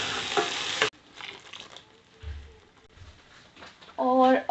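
Spice paste tipped into a hot frying pan for a drumstick curry, giving a loud burst of sizzling frying at first, then quieter stirring and pan scraping, with another sharp sizzle near the end.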